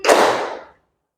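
Students in a class clap their hands in one loud, unified burst. It rings briefly and dies away after about three quarters of a second, with no talking.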